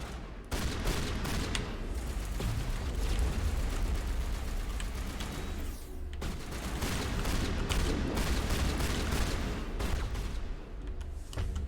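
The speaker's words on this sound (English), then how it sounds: "You guys are shooting each other right now, you know that, right?" Squadmates firing guns in the video game Mass Effect, dense rapid bursts of gunfire crackling almost without pause, loud and close, with a brief gap midway.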